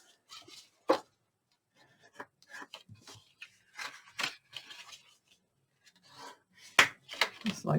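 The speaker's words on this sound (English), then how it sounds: "All we have to do is fold up our score lines." Paper being folded along score lines to form an envelope, soft close crinkles and creases in scattered short bursts with quiet gaps between.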